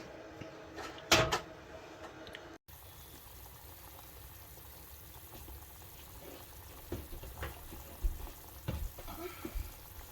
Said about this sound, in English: I'm going to boil this up for a little bit.